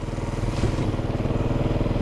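Motorcycle engine idling steadily close by, a continuous low rumbling drone with even pulsing and no pauses for the whole stretch.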